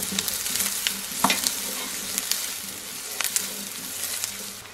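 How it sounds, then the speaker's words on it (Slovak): Onion frying in a pot for goulash soup (kotlíkový guláš), a steady close sizzle with scraping stirring strokes and occasional spoon knocks against the pot, no voices. "Pomaly miešame, kým cibuľa sa neupraží. Cibuľu upražíme do sklovíka."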